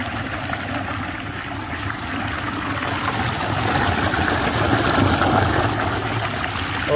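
Meltwater stream running down from the mountain heights near a high Andean lagoon at dawn, a steady broadband rush and gurgle of flowing water, continuous and fairly close, swelling slightly louder midway.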